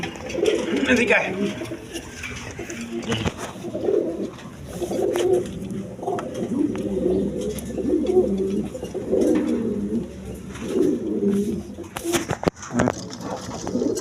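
A pair of Kokka pigeons coo in soft, repeated low rolling phrases, close and steady throughout, with a loud brief clatter near the end and human voices faintly present.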